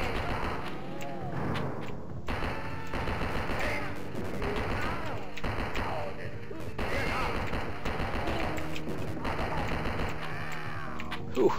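Gunfire from the Operation Eisenfaust: Origins video game: repeated sharp shots and impacts rattle over a busy game soundscape, moderately loud, with some crashing and mechanical noises mixed in.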